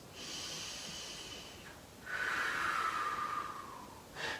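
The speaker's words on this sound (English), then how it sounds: "Nice deep breaths." Deep, slow breathing during a yoga balance flow: a long airy inhale, then a stronger, louder exhale with a breathy rush, and the start of another breath, close and without talk.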